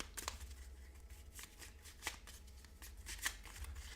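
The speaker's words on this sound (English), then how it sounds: "Then shuffle your deck. I am shuffling my deck." A deck of cards for the Sentinels of the Multiverse tabletop game being shuffled by hand, with a series of soft riffling bursts and a few sharper flicks, fairly quiet and without talk.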